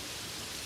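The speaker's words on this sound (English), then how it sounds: "There is rain on the fiberglass above you." Steady rain drums on a fiberglass roof overhead, a dense, even hiss with no breaks, close and soft, no voices.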